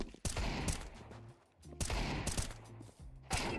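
Gunfire in the video game Counter-Strike 2, with bursts of rapid shots in two clusters separated by a short lull and a final burst at the end, loud and close.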